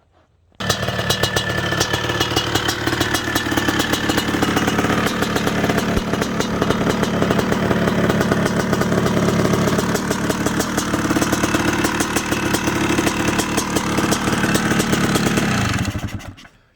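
A 1997 Honda CR500R two-stroke dirt bike engine with a modified top end, carburetor and intake, running hard and steady for about fifteen seconds, loud, close and buzzing, then cutting off.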